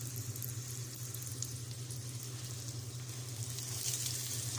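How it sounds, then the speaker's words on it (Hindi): A mooli paratha fries in oil on a tawa over medium heat, giving a steady, close sizzle with a constant low hum underneath and no pauses. "ये देखिए, मीडियम आंच पे रखनी है ताकि उसमें जले भी ना पराठा और अच्छा सा कुक हो जाए।"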